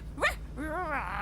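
A dog gives a sharp high yip, then a drawn-out wavering whimper that bends up and down, heard close and alone over faint background hum.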